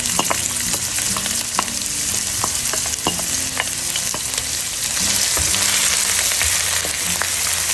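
Chopped onions sauté in about four tablespoons of hot oil, giving a loud, close and constant sizzle with frequent small crackles and occasional soft stirring taps.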